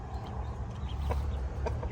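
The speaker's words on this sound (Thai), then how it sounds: "ไก่" Chickens clucking close by in a garden setting, a few short clucks over a low rumbling background.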